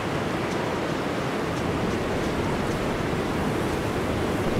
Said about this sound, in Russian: Ветер просто ужас.